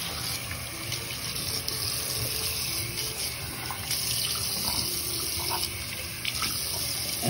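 A bathroom tap runs steadily into a sink as face wash is rinsed off, a continuous close hiss of water with small splashes and shifts in the flow throughout.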